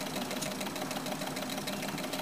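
Solar powered Stirling engine driving a small homemade water pump, a steady fast mechanical ticking and whirring, close and fairly quiet.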